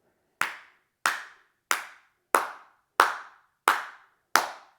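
Seven sharp, hollow penguin-style claps ring out one at a time at a slow, even pace of about one every two-thirds of a second, close and loud with no talking.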